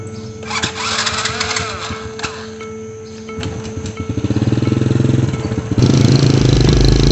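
An old motorcycle engine belonging to a kyai chugs nearby with a low, uneven beat, building into a louder, steadier rapid putter toward the end, with clattering mechanical noise throughout.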